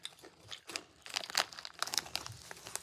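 Small plastic snack bag crinkling up close, a quick series of sharp crackly rustles and crunches with brief pauses between handlings.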